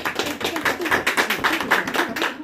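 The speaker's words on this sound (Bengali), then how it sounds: "হাততালি হাততালি।" Hands clapping in celebration over a silver play button, a quick run of sharp claps at a steady rhythm, fairly close and moderately loud, with no talking.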